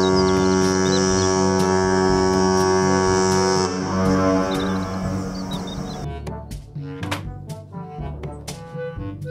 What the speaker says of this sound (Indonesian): kapal pesiar.